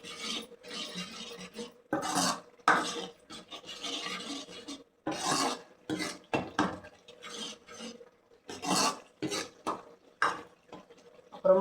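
A spoon scrapes and stirs asafoetida powder into appalam kuzhambu in a pot, with intermittent rasping strokes and metallic clinks in uneven bursts separated by short pauses, close and fairly quiet.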